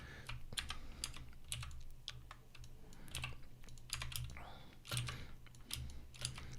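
Rapid keyboard typing for shortcuts on a computer running Adobe Illustrator, with irregular bursts of crisp clicks over a low steady hum at close range.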